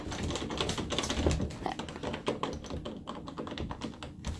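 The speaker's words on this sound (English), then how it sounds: "The doorknob is moving." A doorknob turning and rattling makes a rapid, continuous run of close clicking and tapping that lasts the whole time without pause.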